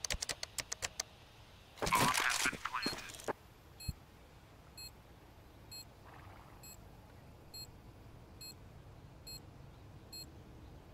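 Rapid clicking bursts at the start, then a planted bomb's faint high beep repeating steadily at about one-second intervals over quiet background, in Counter-Strike 2 on de_inferno.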